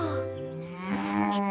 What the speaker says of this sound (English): don't talk to the cow